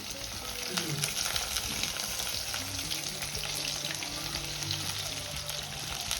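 Pieces of fish frying in hot oil for fish manchurian, a dense close sizzle with popping crackles, steady throughout.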